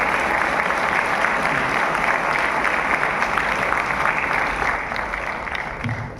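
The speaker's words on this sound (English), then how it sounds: "So let's give a big applause to yourself." Sustained applause from a large audience at a ceremony welcoming a new batch of students, a dense steady wash of many hands that eases slightly near the end.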